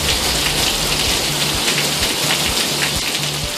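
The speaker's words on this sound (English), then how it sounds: "you're going to be seeing and hearing a lot of this rain this weekend" Steady rain falls in Florida, a dense continuous hiss of drops hitting surfaces, loud and close, with a faint repeating low hum underneath and no voices.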